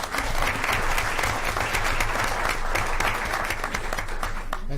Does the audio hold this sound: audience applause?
yes